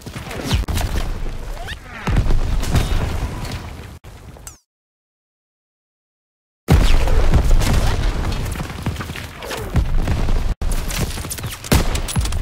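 Loud explosions and bursts of gunfire from fire support in the World War II shooter game Call of Duty: WWII, with dense booms and rattling shots. The barrage cuts to a brief silence, then returns just as heavy.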